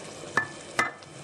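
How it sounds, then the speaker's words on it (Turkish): Chicken pieces being sautéed in a pot for a vegetable stew make a soft, steady sizzle, with two short scraping stirs of a utensil against the pot. "Tavuklar suyunu bırakıp çekene dek kavuruyoruz."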